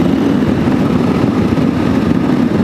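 KTM 890 Adventure R motorcycle engine running on a road ride, a loud, steady low rumble at moderate revs, continuous and close without talk.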